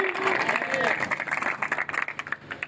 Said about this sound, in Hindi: जोर से तालियां खुदा के जलाल के लिए